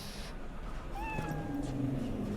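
One drawn-out meow from a cat in the video game Cyberpunk 2077 rises out of muffled low background ambience partway through, then fades into the hum.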